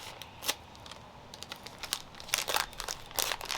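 A knife works open a camp meal heating pouch in a perforated packet, producing close crinkly plastic rustles and crunches that grow busier and louder toward the end, with no voices.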